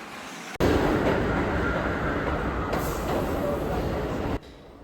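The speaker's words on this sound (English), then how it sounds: "here comes our N train ride to Stillwell" A New York City subway N train of R46 cars arriving on the line toward Stillwell, a loud, close, steady roar that begins suddenly and cuts off abruptly near the end.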